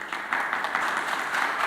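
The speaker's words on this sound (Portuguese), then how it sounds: "Uma salva de palmas para o pastor." Church youth audience applauding their pastor, steady close clapping from a small crowd sustained briefly without talk.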